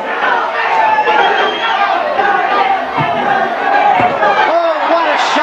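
A boxing arena crowd roars and shouts in support of Jose Ribalta during his fight against Mike Tyson, a loud, sustained wall of voices with rising whoops, under a ringside commentator's voice.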